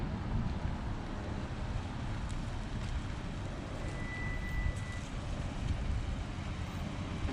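Wind buffeting an unshielded microphone outdoors on a mountain drive, continuous loud low rumble and gusty noise throughout with no voices.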